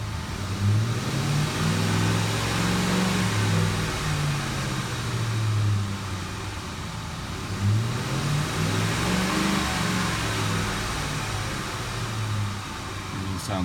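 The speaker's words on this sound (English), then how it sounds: "Open the door so you can hear the engine better." A 2006 Ford F-150 pickup's engine runs steadily with the door open, a low, close hum that swells twice as it revs, with no voices.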